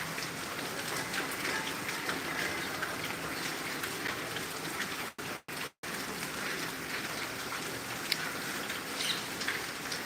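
Heavy rain pours in Tangail next to a busy road, making a steady, dense hiss that runs throughout, broken only by a couple of brief dropouts midway.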